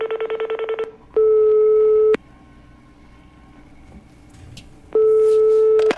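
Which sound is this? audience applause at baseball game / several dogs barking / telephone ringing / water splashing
telephone ringing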